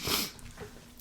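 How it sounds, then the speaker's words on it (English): A single sharp human sneeze bursts out close and loud at the start, with a brief breathy tail afterward and no talking. "I sneezed."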